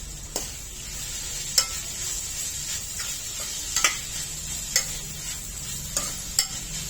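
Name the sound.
ghevda bean vegetable being stirred and sautéed in a pan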